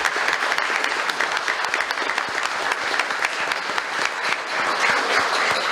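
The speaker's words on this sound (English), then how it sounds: "So let's give them a round of applause." A crowd at a city commission meeting claps and applauds steadily for several seconds, a dense even patter with no speech over it.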